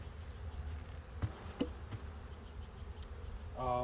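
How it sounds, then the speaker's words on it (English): Low steady hum of honey bees close by inside a hive box, with a few soft knocks and clicks and a brief louder buzz at the end. "There's a good amount of bees in here too."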